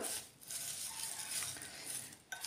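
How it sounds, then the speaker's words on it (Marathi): Crushed udad papad tossed with onion and masala for a salad, soft continuous scraping and rustling of the mixing, faint and close, with a small clink near the end. "आता हे सर्व व्यवस्थित असं मिक्स करून घ्यायचं"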